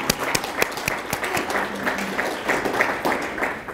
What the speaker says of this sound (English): You're going to start clapping again.